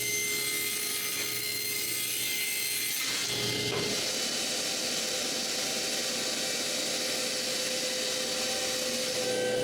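Plywood pieces being cut to make wooden boxes, heard as a steady, close, continuous saw noise that runs the whole time, with a brief shift in tone partway through.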